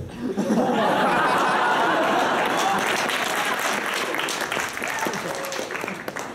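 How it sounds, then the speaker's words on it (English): A comedy club crowd at a stand-up comedy final bursts into loud, sustained applause mixed with laughter, filling the room for several seconds before tapering slightly. "Of all the jokes to get applause."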